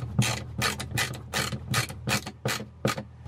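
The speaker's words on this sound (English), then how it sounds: "I'll go ahead and get the rest of the screws installed." A ratchet tool drives screws into an RV shower surround being sealed, giving a close series of about nine evenly spaced clicking strokes with no voices.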